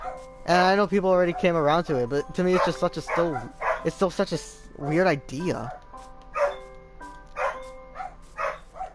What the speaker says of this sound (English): Sorry about my dogs are barking